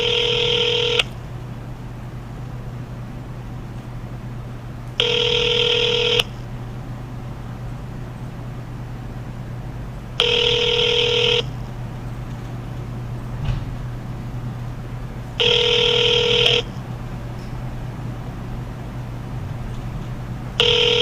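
A telephone call to a toll-free COVID hotline number gives four long, identical electronic tone bursts, each about a second long and spaced roughly five seconds apart, over a low steady hum.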